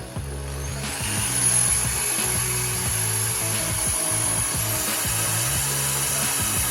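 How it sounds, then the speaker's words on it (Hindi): A Stanley hammer drill with a wood bit bores a hole through a piece of wood, giving a steady high motor whine over a rhythmic grinding chatter as the bit cuts, close and continuous. "पहले वुड वाला मैंने बिट लिया है और इस लकड़ी में मैं होल"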